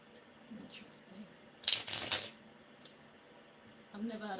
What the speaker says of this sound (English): I've never had a shuffle session like this one.